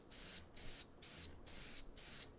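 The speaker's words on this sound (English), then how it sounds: "I'm going to do a really soft spray of yellow over the top of this guy." An airbrush softly sprays yellow paint in short, even bursts of hiss separated by brief pauses, close and quiet, with no voices.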